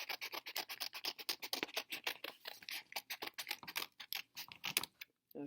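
Scissors snip through two stacked sheets of paper in a quick, close, continuous run of crisp cutting crunches, slowing to a few final snips.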